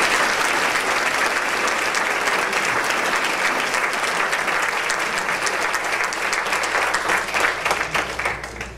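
Sustained, dense applause from an audience greeting a speaker at a Boca Chamber of Commerce event, steady and loud throughout with no talking.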